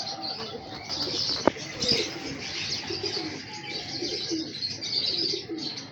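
Heera Lal breeder pigeons cooing and chirping softly nearby, with a brief flutter of wings and a sharp tap partway through.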